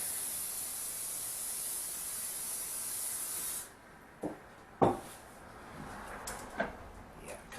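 Cooking spray hisses steadily into a smaller casserole dish for several seconds, then stops, followed by a few faint kitchen clunks and knocks.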